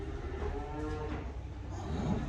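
Sheep crowded in a pen bleat in a steady, overlapping chorus, loud and close, with no talking.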